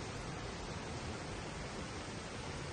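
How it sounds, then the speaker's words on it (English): Roar of the Black Lynn waterfall at The Hermitage near Dunkeld in Perthshire, Scotland, a constant broadband rush of falling water that stays steady and fairly distant, with no voices. "we get the first view of the Black Lynn waterfalls. The power of the water is fierce, and the roar of the noise is incredible."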